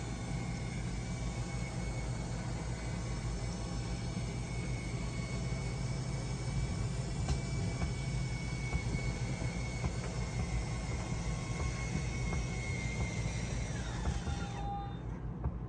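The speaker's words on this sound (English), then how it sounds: "So you heard when the motors start timing out, we let off of the button." Schwintek RV slide-out motors drone steadily with a constant mechanical hum and faint whine, then cut off abruptly near the end as they time out, close by with no talking.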